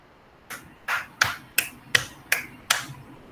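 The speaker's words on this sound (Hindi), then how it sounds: "डेल्फिनस हाउस के लिए भी तालियां।" About seven separate, evenly spaced claps ring out at a school quiz as Delphinus House is cheered. They sound crisp and fairly close, like a few hands clapping slowly rather than a full crowd, with no voices.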